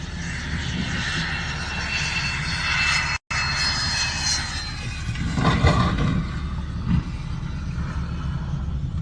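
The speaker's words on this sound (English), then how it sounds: "This private jet came in with way too much speed and managed to overshoot the runway" A private jet lands with too much speed and overshoots the runway, a loud, steady engine roar that cuts out for an instant and then swells again with rumbling surges partway through.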